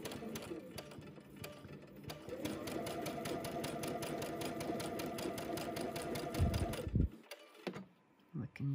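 A sewing machine runs a steady rapid stitching whir along a quilt block seam for several seconds, then stops with fabric handling noises and quiet movement.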